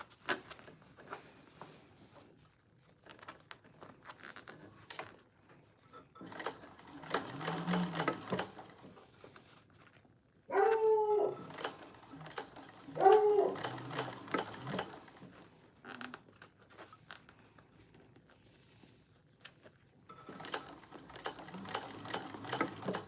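A sewing machine stitching a handbag seam slowly, with short irregular bursts of rapid mechanical clatter and pauses between them, close and alone with faint handling noises.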